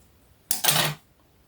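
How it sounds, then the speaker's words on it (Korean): Scissors snipping diagonally through a fabric bias strip, a single close, crisp cut of about half a second in a quiet room. "바이어스를 사선으로 같이 이렇게 잘라주세요"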